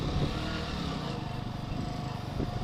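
A Keeway Superlight motorcycle engine runs steadily while being ridden, a continuous mid-level droning hum with slight throttle fluctuation and no voices.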